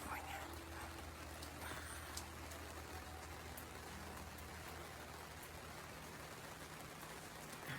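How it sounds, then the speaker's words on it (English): Steady rain falling outdoors in Northern California in summer, a dense even hiss of drops on surfaces, moderate and continuous with no talk. "You hear that? It's raining in California."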